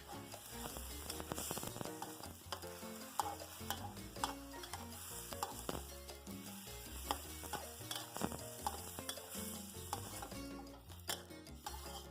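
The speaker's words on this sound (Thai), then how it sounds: "ใส่น้ำลงไปเล็กน้อยค่ะ ก็จะทำให้เรา ผัดหมูได้ง่ายขึ้นแล้วก็ หมูสุกเร็วขึ้นนะคะ" Minced pork being stir-fried in a pan with a little water, with steady sizzling and repeated scraping and tapping of a utensil against the pan, close and continuous with no talk.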